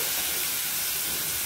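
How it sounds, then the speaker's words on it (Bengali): Boal fish frying in oil under a covered pan gives a steady, loud, close hiss and sizzle throughout. "এই মাছটা কিন্তু একটু সাবধানেই ভাজতে হবে, কেননা এই মাছের যে ছালটা রয়েছে খুব ফাটে, তাই জন্য ঢাকা দিয়েই ভাজতে হবে।"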